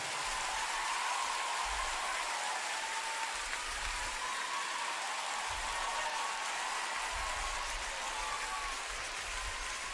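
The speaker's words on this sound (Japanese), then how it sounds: "皆さん盛大な拍手でお迎えください。" Audience applause greeting a band at a rock concert, a steady wash of many hands clapping, dense and even like rain, heard at a distance with low rumbling underneath.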